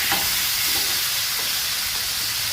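A hamburger steak sizzles steadily on a Blackstone griddle, a constant close hiss of frying fat with faint crackles running through the whole stretch, no voices.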